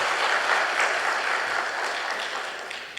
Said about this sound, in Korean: 조영기 교수님께 다시 한번 큰 박수로